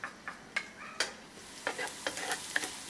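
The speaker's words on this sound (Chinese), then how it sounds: "先炒姜末" Minced ginger stir-fried in hot oil in a wok, a faint soft sizzle with several sharp scrapes and taps of a spatula at irregular intervals, no voices.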